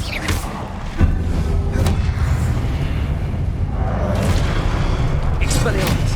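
Spell blasts in Hogwarts Legacy, deep booming thuds and crackling bursts that land one after another over a constant loud rumble of gameplay effects.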